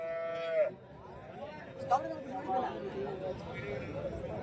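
A Holstein Friesian cow lows at a busy cattle market, one clear moo near the start rising over steady crowd chatter and voices that continue throughout.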